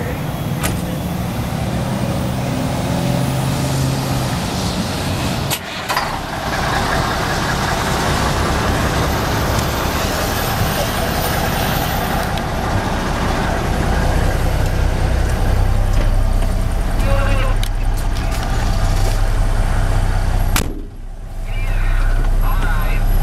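Lime green Mack truck with a triplex transmission driving along, its loud diesel engine droning continuously with brief dips where gears shift, cab noise filling the whole stretch.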